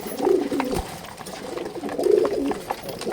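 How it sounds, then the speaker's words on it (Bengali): Pigeons at a house loft, with Giribaz high-flyer birds kept there, give two soft, throaty coos about two seconds apart against a quiet, faintly noisy yard. "দেখুন এখানে আরও কবুতর রয়েছে"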